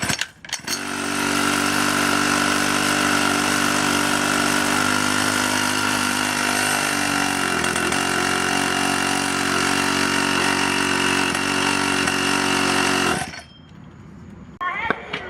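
An engine idles with a re-welded muffler, giving a loud, steady, even drone that holds for about thirteen seconds and then cuts off abruptly.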